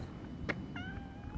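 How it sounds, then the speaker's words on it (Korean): A single short, fairly quiet cat meow sounds over low background hum at a restaurant table, preceded by a brief faint click. "어디서 고양이 소리가 나는 거지?"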